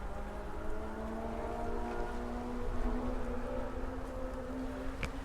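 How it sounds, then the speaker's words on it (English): A motorbike drones somewhere in the distance behind an outdoor garden scene, a faint steady engine tone that rises and falls gently, with a sharp tick near the end. "I can hear a motorbike."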